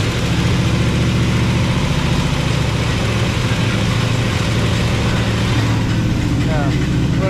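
A Big Block Chevy V8 on a test run as a replacement for a 1972 Chevrolet C10, idling with a deep steady rumble that holds throughout, voices talking over it.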